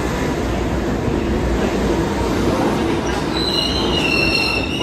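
A New York City subway number 1 train pulls into a station with a loud, continuous roar of wheels on rail and rising high metallic squeals from the wheels toward the end.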